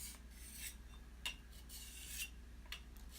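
A knife drawn across sandpaper while sharpening a puukko-style blade, faint rasping strokes repeating at an irregular pace, quiet and close with no talking.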